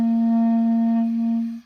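A single sustained clarinet note played with too loose an embouchure, a flat, airy tone held steady for about a second and a half before stopping.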